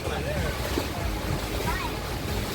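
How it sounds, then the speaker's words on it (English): A spacious six-seat pontoon boat cruising on calm, lake-like water with no waves, a steady broad rush of wind and water, with faint voices in the background. "We are in a spacious pontoon boat that can take up to 6 people"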